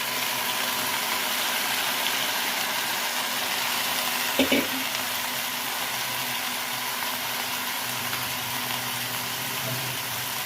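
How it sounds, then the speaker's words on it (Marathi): Washed tandulja leaves being mixed into a hot pan of roasted ingredients, a loud continuous sizzle with one brief scrape of the spatula midway. "आणि त्यानंतर त्यामध्ये निवडलेली चांगली धुवून घेतलेली भाजी मिक्स करतो"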